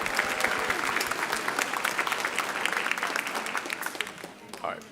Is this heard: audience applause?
yes